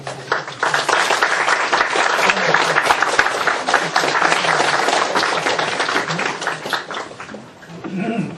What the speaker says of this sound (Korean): 홍원식 교수님 나오시면 여러분들 큰 박수로 환영해 주시기 바랍니다